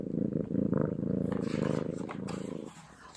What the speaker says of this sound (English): Have you ever heard a kitten purr?